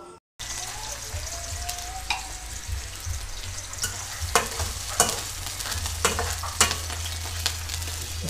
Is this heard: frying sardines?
yes